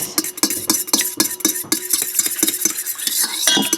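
Oil and ingredients are stirred briskly in a bowl for peanut butter brownies, making a fast, close run of clinking, scraping utensil strokes against the bowl.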